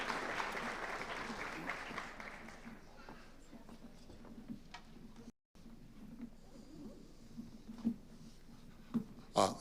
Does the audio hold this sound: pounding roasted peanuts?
no